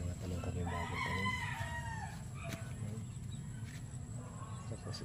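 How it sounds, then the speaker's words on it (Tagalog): Chickens cluck and a rooster crows in a noisy outdoor yard, with a steady low rumble underneath throughout. "Yung mga manok namin."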